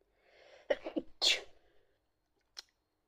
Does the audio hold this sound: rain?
no